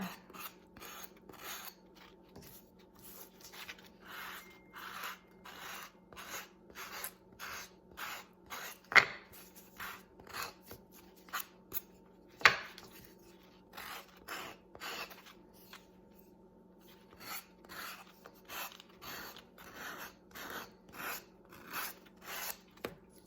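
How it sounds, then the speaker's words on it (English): Repeated light rasping strokes in a steady rhythm, a soft scratchy rubbing close by as a paper edge is sanded off a sign, with a couple of sharper clicks partway through. "if you lightly sand it, it'll usually just get that paper, that extra edge, just right off there for you"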